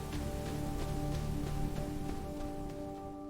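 Rain patters as a sound effect in a narrated story, a faint, steady hiss of drops with soft repeated ticks over a low background drone, and no speech.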